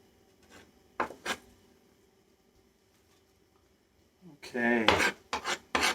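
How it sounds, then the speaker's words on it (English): A bread cutter scrapes chopped onions across a cutting board for tailgate chili: a couple of short raspy strokes, then a longer rough scraping run of several strokes near the mic, with a brief spoken word. "It's easier to scrape off here with the bread cutter."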